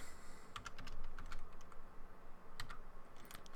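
Quiet, quick typing on a computer keyboard, with irregular clusters of light key clicks and short pauses between bursts, close by and alone with no voices.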